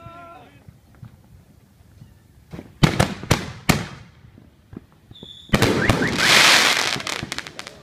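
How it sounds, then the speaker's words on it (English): Fourth of July fireworks bursting outdoors: several sharp loud bangs in quick succession, then a dense roaring, crackling volley that fills the last few seconds, with faint voices beforehand. "Hey, Firework."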